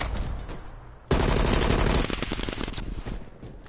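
A sudden loud, close burst of rapid automatic gunfire in a shooter game, breaking a quieter stretch and continuing as dense rattling shots that thin out toward the end.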